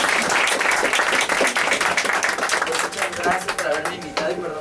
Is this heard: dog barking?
no